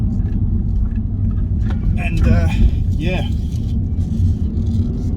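A car engine rumbles loudly and steadily at close range as the driver accelerates hard, with a low growl building slightly midway while someone talks over it.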